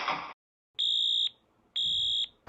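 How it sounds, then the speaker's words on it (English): A school fire alarm sounds in two long, loud, steady electronic tones separated by short silences, following a brief burst of noise at the start. "It's the fire alarm that goes off."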